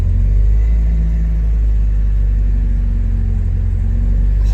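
The engine of a 1973 Alfa Romeo Spider is held at about 1500 rpm, giving a loud, close, steady rumble. The low drone stays unchanged throughout, with no talking.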